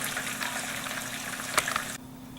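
Homemade chicken nuggets frying in hot oil on their second fry, a steady bright sizzle and crackle with a louder pop near the end before the hiss drops away.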